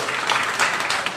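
A hall full of people at a community gathering in Haridwar breaks into loud, dense clapping that stays steady and continuous throughout, with no one speaking over it.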